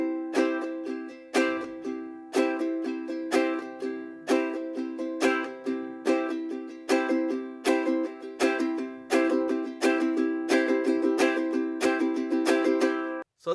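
Fast ukulele strumming in a steady down-up pattern, each stroke a sharp bright chord attack ringing close and clear for about thirteen seconds before stopping abruptly, with no talking over it.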